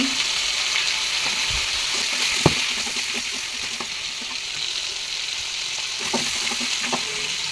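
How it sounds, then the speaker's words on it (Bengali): Shrimp fry in hot oil with salt and turmeric, a continuous loud sizzle broken by a few sharp spatters and scraping stirs. "একটু লবণ দিয়ে চিংড়ি মাছগুলো ভেজে নেব"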